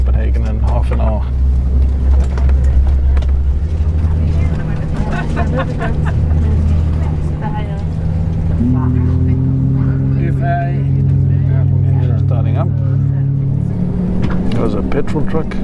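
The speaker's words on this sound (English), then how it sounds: "pushback has begun" A Novair airliner being pushed back on the ground, with a steady low engine rumble and a droning tonal whine that shifts partway through, continuous and fairly loud, with faint voices underneath.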